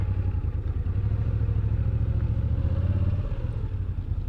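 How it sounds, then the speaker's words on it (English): A motorcycle riding along back roads, its engine giving a steady, loud low rumble throughout with constant road and wind noise and no breaks. "we are going to get a nice little ride down some back roads"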